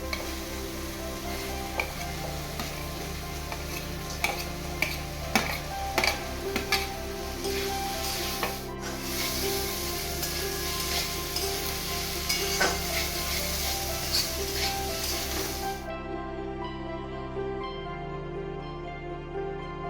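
Fried potatoes tossed into sizzling spice masala, a steady close sizzle with repeated scraping stirs for about sixteen seconds before the sound drops away. No talking.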